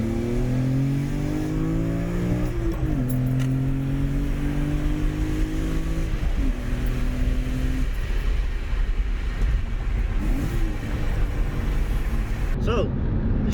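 A BMW E46 M3 with a short-shift shifter and CSL air box pulling through the gears, engine tone rising and dropping with each shift, steady loud cabin drone throughout.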